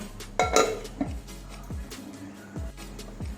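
A metal lid is set onto a pot of palm-fruit malpua batter, giving a clear clank followed by a few lighter taps and rattles, close and quiet, with no voices.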